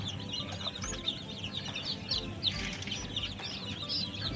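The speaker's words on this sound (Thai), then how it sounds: "ก็จะเป็นเนี่ยลูกไก่แล้วก็ลูกนกกระทานครับ" Constant high-pitched peeping of many small chicks, busy and overlapping, with a low background hum throughout.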